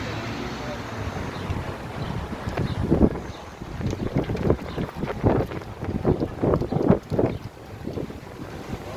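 Wind gusts buffet the microphone in a rough, rumbling roar that swells into a series of heavy thumping blasts, outdoors with some talking underneath.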